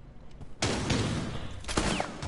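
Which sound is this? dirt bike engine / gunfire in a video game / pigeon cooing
gunfire in a video game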